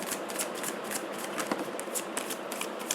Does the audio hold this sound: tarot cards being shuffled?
yes